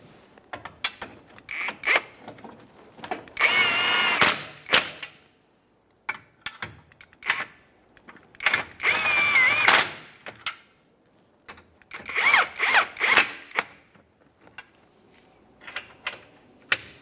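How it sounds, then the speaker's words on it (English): A power tool drives home the mounting hardware bolts on a vehicle subframe in several short, loud rattling bursts separated by quieter handling clatter and pauses. "Once it's started on, bottom it out and torque it to 50 foot-pounds."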